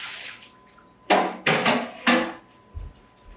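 Water poured off from a pumpkin crème brûlée water bath in a home kitchen, heard as three close, sharp bursts of splashing and dish clatter, each fading quickly, then a soft low knock.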